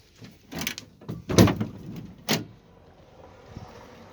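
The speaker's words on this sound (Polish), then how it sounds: "teraz otwieram drzwi." The sliding door of a camper bus, fitted with an anti-theft lock and remote control, opens with a few mechanical clunks and knocks close by, then quiet.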